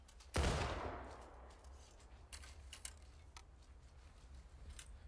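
A massed musket volley in the Civil War game War of Rights cracks out loud at once and rings away into a long echo, followed by faint, scattered distant shots and clicks.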